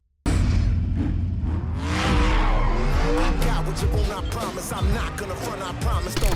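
Racing cars in the video game Forza Horizon 5 roar loudly and continuously, with engines revving, tires squealing and skidding through corners, and sharp whooshes as vehicles pass.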